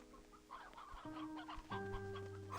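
Chickens cluck repeatedly in the video game Slime Rancher 2, several short clucks layered over steady tonal game music, fairly close and clear with no speech.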